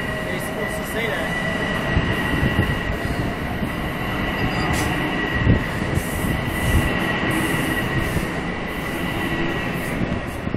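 A southbound Metro-North M7A electric train pulls out of Spuyten Duyvil station, a steady loud rumble of wheels and motors with faint high squeal throughout, continuous and close.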